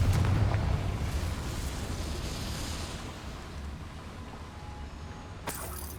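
A Confringo fire spell explodes in Hogwarts Legacy inside a small mine, a loud rumbling blast that decays into a long low roar, followed by a faint sharp crack near the end.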